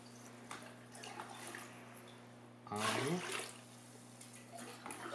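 Salt water and pure water are poured into a 500 millilitre beaker, a short splashing gush of liquid rising over a low steady hum, with a brief trickle near the end.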